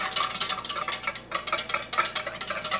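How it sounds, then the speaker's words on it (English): A whisk beats a homemade cleaning product mixture in a bowl, quick rhythmic scraping and clinking strokes that come close and fairly loud, with a short pause midway before the brisk stirring resumes. "Once this is whisked together really well and there are no clumps"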